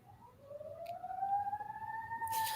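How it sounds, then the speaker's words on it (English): Siren wails faintly in the distance, one long rising tone sweeping slowly upward and holding, low in level beneath background noise. "I noticed the sirens behind you"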